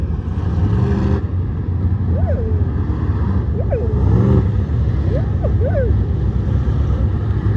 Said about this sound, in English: If you see any cars wiggling right now, that typically means they're testing the track.